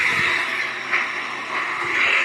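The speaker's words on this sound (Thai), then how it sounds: "รถกำลังเคลื่อนตัวตอนนี้" Steady broadband rumble of a moving vehicle convoy with a constant mid-range whine, a continuous roll of traffic passing nearby without pause.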